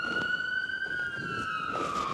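A police car siren wails in a sweeping rising and falling tone at moderate distance, continuous over the short span with faint background noise and no voices.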